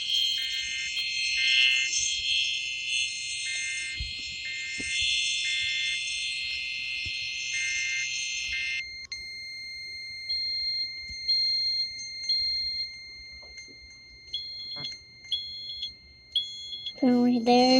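Smoke detector alarm shrilling in loud, steady pulses for several seconds, then falling into shorter intermittent chirps with quiet gaps, and people talking nearby.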